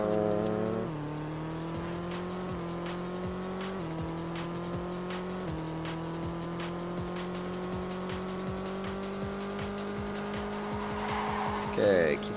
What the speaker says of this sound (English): we ended up hitting the barrier on the outside